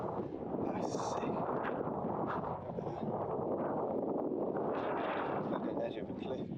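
Strong wind buffets the microphone on a hilltop on the Edale skyline, a steady loud roar that dips briefly midway, with no talk heard.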